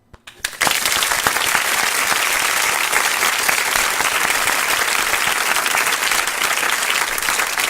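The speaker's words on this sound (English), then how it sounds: "let me give him an official People Before Politics round of applause" Studio audience gives a steady, dense round of applause for an Ossining village trustee on a talk radio show, starting abruptly and holding loud and even throughout with no voices on top.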